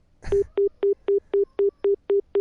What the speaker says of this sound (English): Why is no one picking up the phone?